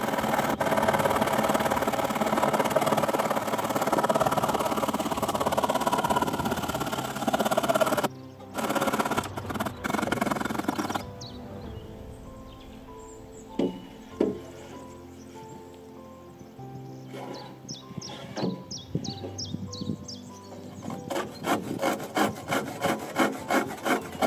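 A protruding piece of wood on a tiny house floor is cut in place, with a loud, steady rasping saw stroke for about eight seconds, followed by quieter scattered knocks and clicks.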